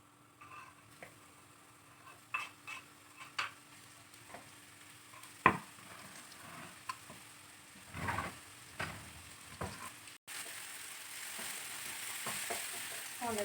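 Oil sizzles quietly in a pan as onions are added, with scattered scrapes and clacks of stirring, then the frying hiss grows louder and steadier toward the end.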